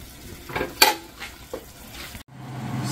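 Onions fry with beef in a pan for a beef chili dish, a soft, low sizzle punctuated by a few scraping stirs and one sharp utensil clink against the pan.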